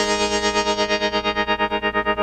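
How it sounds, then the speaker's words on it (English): A sustained electric guitar chord with a rapid, even pulsing in volume, the throbbing wobble repeating steadily and growing more pronounced toward the end. "Let me play something so you can hear the tremolo"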